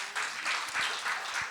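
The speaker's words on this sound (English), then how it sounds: "I always say, don't clap too hard." Audience applause rises and falls in a steady wash of many hands clapping in a hall, moderately loud and heard on its own without any talk.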